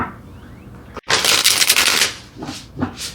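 Tarot cards being shuffled close up, a dense riffling flutter lasting about a second followed by a few shorter shuffling bursts, no talking.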